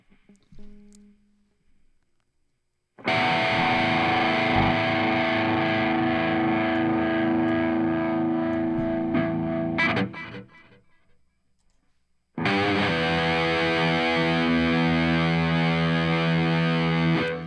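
A heavily distorted electric guitar through a Line 6 HX Stomp amp model plays sustained chords, cutting out briefly mid-way before the thick, saturated tone returns.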